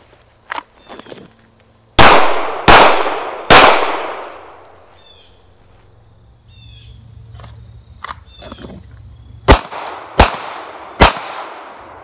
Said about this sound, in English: this time I'm going to try to fire 3 headshots into my target as I'm moving